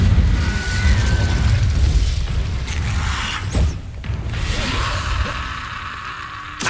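Spell effects from Hogwarts Legacy, with the Incendio fire spell cast among them: loud, booming whooshes and bursts that rush and crackle in close succession, with a heavy low rumble throughout.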